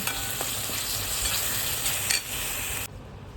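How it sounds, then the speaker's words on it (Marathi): Ground cumin, coriander and garam masala being stirred into green chicken in a hot pan: a close, steady sizzle with spatula scrapes and stirring. It cuts abruptly quieter just before the end; no voices. "मसाला टाकलेला आहे, मिक्स करून घेऊ."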